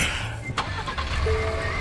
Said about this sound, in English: that requires me turning on the car